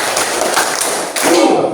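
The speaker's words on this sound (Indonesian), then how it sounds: "kita tepuk semangat dulu ya, biar semangat" A grade 5 elementary school class claps out a rhythmic cheer in a classroom. The dense, loud clapping is mixed with voices chanting together.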